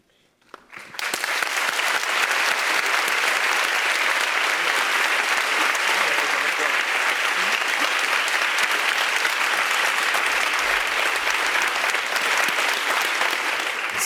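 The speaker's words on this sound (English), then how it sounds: "So we've thanked them with this rounding applause." Loud, sustained applause from an audience at a racial justice event, starting abruptly and holding dense, even clapping throughout.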